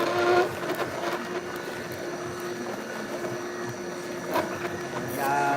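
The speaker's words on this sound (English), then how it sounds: "the sound you're hearing there is the green apples" A cold press juicer works through green apples with a steady mechanical whir and grinding drone. Faint intermittent clicks and thuds sit over it, and background music is audible.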